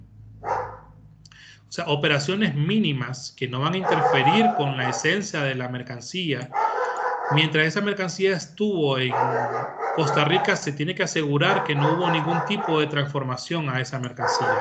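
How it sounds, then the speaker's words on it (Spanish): A neighbour's dog barks intermittently in the background beneath continuous close Spanish speech from someone talking through a lecture, the barks mostly masked by his voice. "perdón por el perro, pero no es mío, es del vecino."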